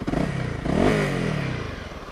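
A BigDog motorcycle engine revs up loud and close, the harmonic sweep rising then easing back into a rough idle over a couple of seconds.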